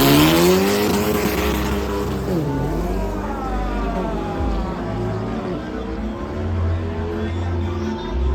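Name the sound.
Formula 4 race car driving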